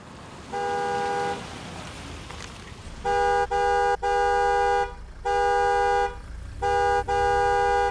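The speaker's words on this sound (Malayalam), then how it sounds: "എത്ര നേരമായി ഹോൺ അടിക്കാൻ തുടങ്ങിയിട്ട്?" A car horn honks loudly in a single long blast, then after a pause sounds in a run of repeated short and long blasts, close and clear, with a low engine rumble underneath.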